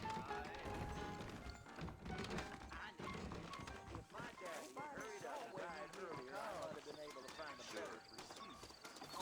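Saddled horses' hooves clip-clopping in the Western video game Red Dead Redemption, a steady trotting rhythm close by, heard under a voice speaking throughout.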